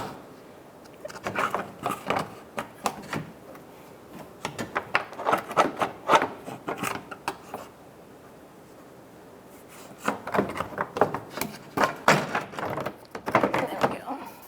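A plastic radiator fan shroud on a 2001-2007 Volvo V70 is worked into place, giving bursts of rubbing, scraping and knocking in close clusters separated by a quieter pause.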